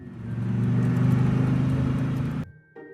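A car accelerates during a driving lesson, its mid-pitched engine hum rising steadily and loudly for about two and a half seconds before cutting off abruptly, followed by a brief quiet tail.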